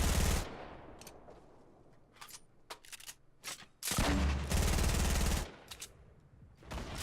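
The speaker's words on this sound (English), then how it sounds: "Now we use the grenade launcher" Fortnite grenade launcher firing, with loud booming explosions and heavy blasts separated by quieter stretches of lighter shots and game noise, up close and without talk.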